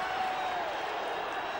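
A 1980 football stadium crowd at a New Orleans Saints versus San Francisco 49ers game gives off a steady, distant roar of cheering that holds the whole way through.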